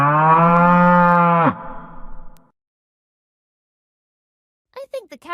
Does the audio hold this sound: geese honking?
no